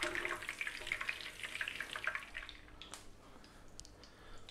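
Green beans cooking down in a lot of oil for a Middle Eastern green bean and tomato dish, giving a soft, even sizzle and crackle that fades slightly toward the end, with no talking.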